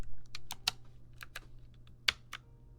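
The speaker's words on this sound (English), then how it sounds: "I got a new keyboard actually, cause dude, my keys are stuck" Clanky keys on a new computer keyboard are pressed one at a time with uneven pauses, each producing a sharp, close click over a low steady hum.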